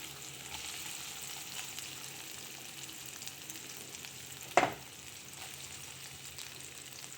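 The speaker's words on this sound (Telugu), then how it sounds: "నూనె పెట్టుకుని అది కాగిన తర్వాత ఉల్లిపాయలు వేసుకోండి" Onions frying in hot oil for an okra and tomato curry, a steady soft sizzle throughout with one brief louder crackle or stir partway through.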